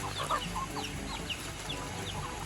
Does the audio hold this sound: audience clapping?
no